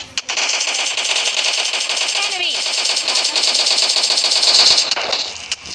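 Sustained automatic gunfire in the mobile shooter game PUBG Mobile Lite, dense rapid shots running almost continuously and loud, with players talking over it.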